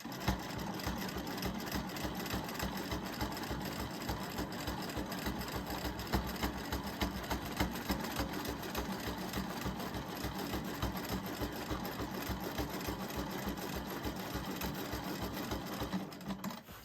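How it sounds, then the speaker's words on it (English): A longarm quilting machine stitches in the ditch, guided along a straight-edge ruler, with a steady, loud mechanical whirr and rapid needle rhythm running continuously and alone. "Stitching in the ditch using the straight edge ruler."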